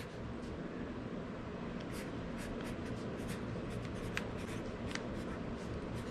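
A pen writing a label on the outside of a folder in a workshop, quick faint scratchy strokes in short bursts over a steady low background hum, close by with no talk.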